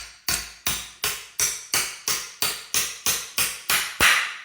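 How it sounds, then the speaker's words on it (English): Eleven sharp, evenly spaced hammer blows drive a star nut down into a carbon fiber e-bike fork on a Bafang M820 lightweight eMTB build, each strike ringing close and loud with a short decay. "hammer it in till it gets to the right depth"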